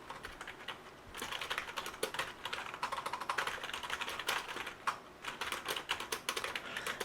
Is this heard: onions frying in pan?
no